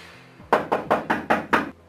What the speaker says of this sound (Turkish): Kapı çalıyor, kapıya baksana.